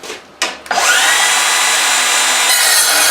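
A Hilti SCM 22-A cordless metal-cutting circular saw slices through 41 mm, roughly 2.5 mm thick steel unistrut. Two short bursts come first, then one loud, close, steady high-pitched whine holds to the end without talk.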